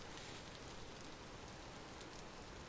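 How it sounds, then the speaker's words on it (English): Steady rain pours in the video game Vintage Story, a dense, even hiss of drops hitting the ground that runs without a break, close and uniform from start to finish. "The rain is so cool. I like the rain."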